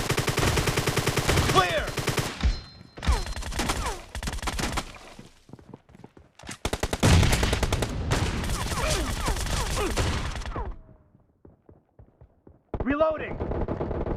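Rapid M1014 shotgun blasts in PUBG Mobile team deathmatch, loud bursts of repeated shots broken by short pauses, with game voice callouts over the firing.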